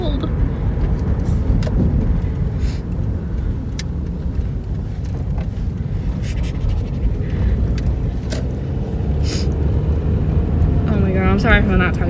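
A car rolls along with a steady low engine and road rumble filling the cabin, loud and constant throughout, while someone talks over it at intervals.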